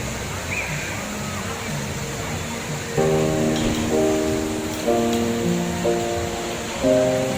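A flowing stream at a river resort gives a steady rushing wash of water throughout, with a musical tone joining partway through and a voice speaking over it.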